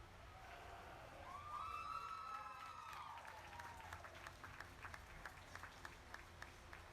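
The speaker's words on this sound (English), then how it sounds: "Give them another round of applause" Audience applause breaks out at a youth sheep market show, a steady patter of many hands clapping across the arena, with a loud whoop or cheer rising over it early on.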